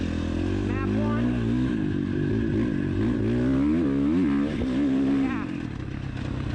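A 2019 Husqvarna FC 450 motocross bike being ridden, its engine revving up and down through the gears in loud, close rising and falling pulls, with a rider talking over it.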